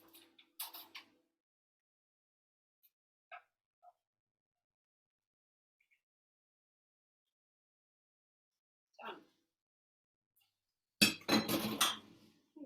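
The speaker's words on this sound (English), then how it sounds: "I'm just going to scrape this gently into my pan" Food scraped from a board into a hot pan, heard as a few light clinks and taps followed by a louder burst of scraping and sizzle near the end, with quiet gaps between.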